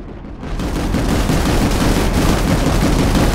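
Units open fire in a Zerg air battle in a video game, a loud, dense and continuous wash of rapid gunfire and blasts that swells in after a brief quieter start.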